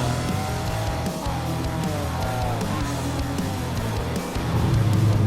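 A historic saloon race car at Magny-Cours held at full throttle through the first corner on cold tyres, a loud close engine roar with shifting pitch and a swell near the end.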